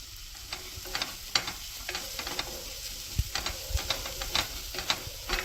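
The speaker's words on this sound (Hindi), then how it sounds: "इस तरह से लहसुन और मिर्च को भी अच्छे से भून लेंगे" Onion frying with a ginger, garlic, chili and turmeric paste for sarson ka saag, a continuous near sizzle broken by frequent scraping and tapping of a spatula stirring in the pan, without speech.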